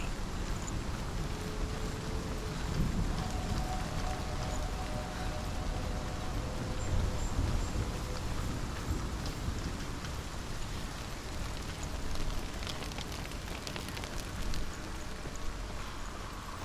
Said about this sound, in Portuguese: O barulho da chuva também é muito realista.